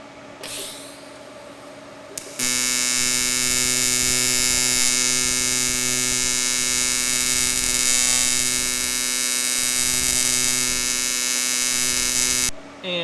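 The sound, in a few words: Everlast PowerTIG 255EXT TIG welder arc, triangle wave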